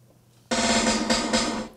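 An unprocessed tom drum roll played from an EXS sampler instrument with all plugins off: a dense, loud run of rapid tom hits starting abruptly after a brief quiet lead-in and sustaining to the end, with no talk.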